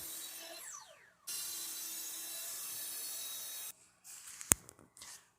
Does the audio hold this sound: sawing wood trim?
yes